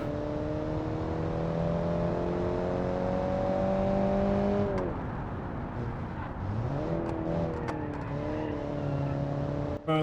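A 1950s roadster engine in BeamNG hums at a steady pitch, then drops sharply as the car brakes into a tight hairpin, and climbs again as it accelerates out, loud and alone.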